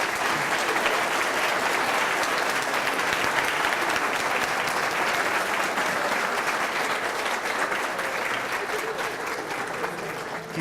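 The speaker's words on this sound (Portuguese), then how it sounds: "eu gostaria que vocês dessem uma salva de palmas" Sustained, even applause from an audience at a meeting of postgraduate coordinators, a dense wash of many hands clapping at steady volume for about ten seconds, with no talk over it.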